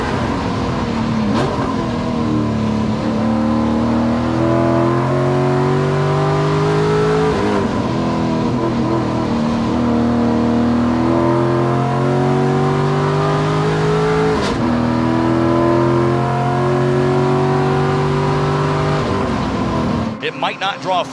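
Race cars accelerate and rev on a grassroots motorsport track, engine notes rising repeatedly in long climbing sweeps, loud and close throughout, with commentary talk running underneath.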